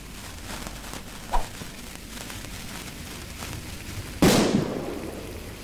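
A firecracker going off in the Cooking Simulator video game: a faint early pop, then a sharp louder burst near the end that fades with a crackling tail over a steady low background.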